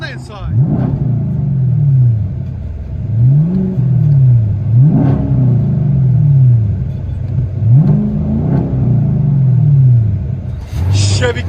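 Inside a 2018 Chevy Camaro SS, the 6.2L V8 with Flowmaster Outlaws exhaust and 5-inch tips barks through four loud revs that rise and fall over a deep idle rumble, close and booming.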